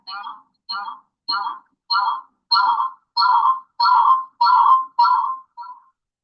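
Loud mobile phone ringtone close by, ten evenly spaced warbling electronic tone bursts that swell in volume toward the end before cutting off.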